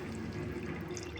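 Soaked tamarind water pours into a simmering fish curry in a pot, a brief, soft and steady liquid splash heard close up with no voices.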